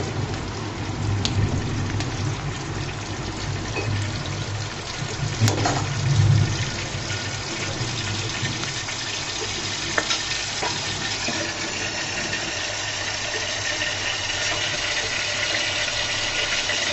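Snacks made from flour and boiled potato deep-frying in oil, a loud continuous bubbling hiss heard up close for the whole stretch, with a brief splash-like burst near the start and no speech.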